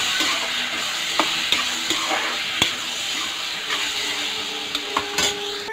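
Tomatoes, potatoes and chickpeas sauté in a pan with a steady close sizzle and hiss, broken by sharp, regular clicks and scrapes of a spoon stirring, with no voices.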